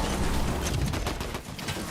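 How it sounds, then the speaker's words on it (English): Faint bursts of video game gunfire crackle in quick, irregular succession, sounding distant against a dense wash of background noise. "I hear gunfire."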